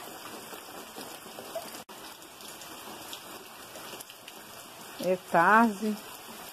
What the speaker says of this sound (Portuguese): É uma chuva bem tranquila, mas uma bênção de Deus.